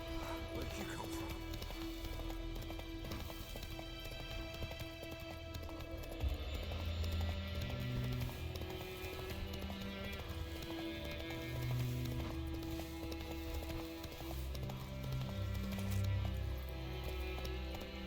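Roach, the horse in The Witcher 3: Wild Hunt next-gen remaster, gallops with steady rhythmic hoof clip-clops over a dense game soundscape, with occasional whinny-like bursts and some speech mixed in.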